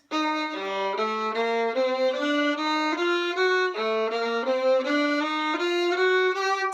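A viola plays a smooth slurred passage from a piece, notes gliding one into the next in a steady, continuous line, close and clear with no talking.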